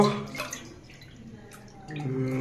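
Aquaguard-purified drinking water is poured and drips in soft, close splashes and trickles, with faint tonal voices at the start and end.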